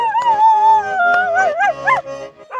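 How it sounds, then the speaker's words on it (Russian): A dog howls in long, wavering, rising and falling tones, as if singing, loud and close, with a few short yips between the drawn-out howls and no speech. "Главврач горбольницы снял поющую собаку."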